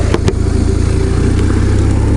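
A dual-sport motorcycle engine idles and runs steadily at a 2018 group ride with riders from around the world, a continuous low rumble close by with two brief sharp knocks near the start.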